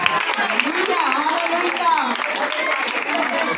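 A church congregation applauds in a steady, dense wash of clapping that fills the hall, with a voice speaking over the continuous applause.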